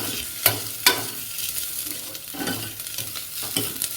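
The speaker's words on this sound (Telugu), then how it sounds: "కరివేపాకు నేను కొద్దిగా ఎక్కువగానే వేస్తున్నానండి." Curry leaves are added to hot oil in a pan for cabbage curry and sizzle steadily. A few sharp clinks of stirring sound up close, and no one speaks.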